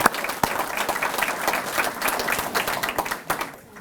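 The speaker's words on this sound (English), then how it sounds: "a round of applause for him in lieu of" An outdoor Memorial Day ceremony audience breaks into sustained applause, a dense wash of many hands clapping steadily for several seconds with a few sharper claps standing out, then tapering slightly at the end.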